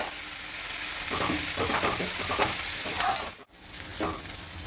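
Onions fry in a hot pan with a little salt, a loud continuous sizzle overlaid by the scrape of a spatula stirring them, with a brief dip in the noise near the end.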